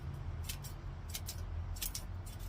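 Small cutting tool snipping the overlong roots of a chilli plant, a handful of quick crisp snips in short pairs over a steady low background hum, close and fairly quiet with no talking.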